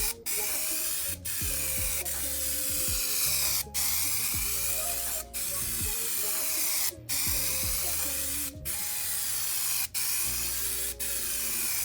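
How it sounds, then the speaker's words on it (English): Spray gun bursts lay primer coats on an Audi TT body, a loud continuous hiss broken by brief pauses every couple of seconds between passes. "So we're gonna do a couple light coats so that the primer is sticking well, and then a couple heavy coats for us to sand on."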